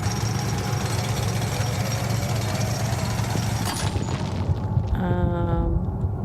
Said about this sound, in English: Destroying a rock wall in the path uses up 1 drill charge